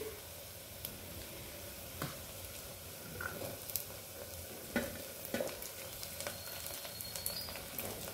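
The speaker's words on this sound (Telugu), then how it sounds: "ఇప్పుడు పచ్చిమిర్చి వేద్దాము." Green chillies frying in a pan for Andhra-style dum bhaji, with a steady low sizzle and occasional scrape and clack of a spoon stirring, close and moderately quiet.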